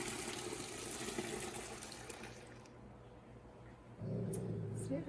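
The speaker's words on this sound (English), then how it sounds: "the next step is to pour it into the bucket with everything else" Dissolved laundry detergent solution is poured into a 5-gallon bucket, giving a splashing, gushing liquid sound that swells near the end, with a voice talking faintly around it.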